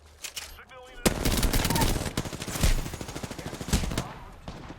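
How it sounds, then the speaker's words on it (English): Rapid automatic gunfire in a first-person shooter video game, dense bursts of shots that swell and fade in waves after a brief quiet start, loud and close. "The enemies are shooting at me. Opening fire on the enemy."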